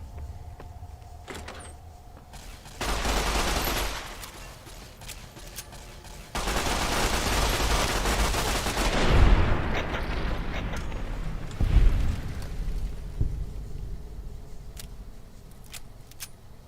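Gunfire in a Silver Rush-era wasteland video game: bursts of shots and loud impacts with clattering effects, rising and falling over about seventeen seconds, mixed with other game noise and no talk.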